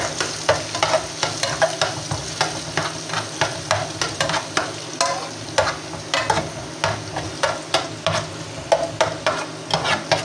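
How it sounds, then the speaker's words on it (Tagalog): Ginger and garlic sautéing in a pan: a steady close sizzle with quick, regular scraping stirs about twice a second, fairly loud throughout, with no voices. "Ginigisa na natin."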